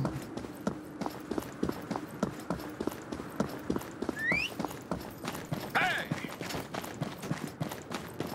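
Horse hooves in the video game Conqueror's Blade. A steady, rhythmic clip-clop of hooves runs throughout at moderate volume, with a couple of brief high whinny-like calls and faint background game noise.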